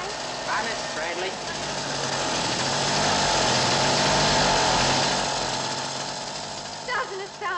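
A motorbike engine runs close by, a steady buzzing rumble that swells louder toward the middle and then eases off, with brief speech fragments at the start and end.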